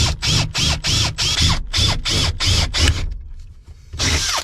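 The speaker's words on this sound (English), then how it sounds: "Now we just got to drill these 2 in the front" A power drill bores bolt holes for a billet MXR shifter box in a K24-swapped EG hatch, running in repeated short bursts with brief pauses, close and loud, with a longer gap before a final burst.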